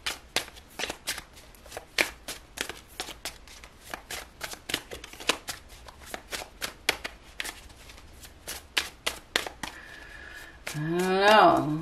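Tarot cards are shuffled steadily for several seconds in a close, quiet room, giving a run of crisp riffling flicks at irregular intervals, and a voice starts speaking over the last moments.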